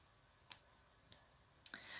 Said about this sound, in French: ça, c'est un rouge à lèvres. Donc je vais l'ouvrir.